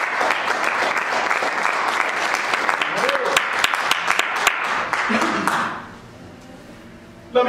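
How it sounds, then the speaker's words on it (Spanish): A church congregation applauds for the Lord at a bilingual Spanish-English service, dense clapping for about five seconds with a little speech mixed in, then tapering off quickly into quiet. "denle un aplauso al Señor"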